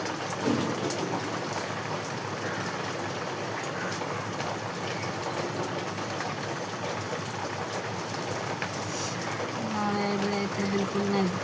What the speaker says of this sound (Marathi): पाऊस तर खूपच आहे आता, पावसाचा आवाज पण येत असेल